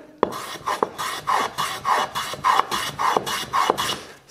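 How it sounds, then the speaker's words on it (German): A hand plane shaves the wooden edges of a routed wooden bottle carrier in a series of about eight rhythmic rasping strokes, close and loud with brief pauses between them and no talk. "Das war auch gerade solche Kanten hier. Kann man super mit dem Hobel machen."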